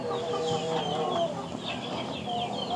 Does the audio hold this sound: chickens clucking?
yes